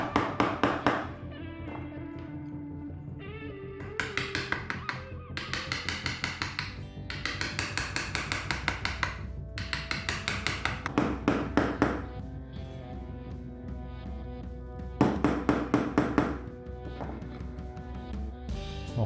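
A chisel taps repeatedly into a layered wooden model wing, with short bursts of light, crisp knocks in uneven clusters, gently placed and close up, with no talk.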